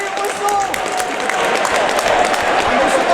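Crowd noise fills an arena at a Triton high school ice hockey playoff game against Lincoln Sudbury, a steady murmur with scattered clapping under ongoing talk throughout.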